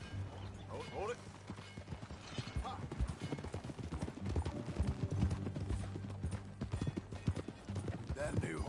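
Horse hooves clip-clop at a trot in the Red Dead Redemption 2 video game, a steady close rhythmic clatter with a faint snort, while characters talk over it.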